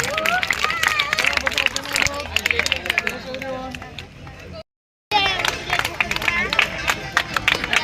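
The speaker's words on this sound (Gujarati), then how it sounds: "મંચસ્થ મહાનુભાવો જોરદાર તાળીઓથી આ અર્પણને વધાવીએ" A crowd claps and cheers at a school bicycle distribution ceremony, with energetic scattered applause broken by a short gap while children's voices chatter and shout nearby.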